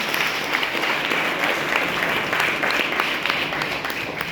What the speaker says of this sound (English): Give him a big round of applause for what he is doing.